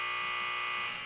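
A loud electronic buzzer blares in one steady, harsh continuous tone, close and alone, for about a second.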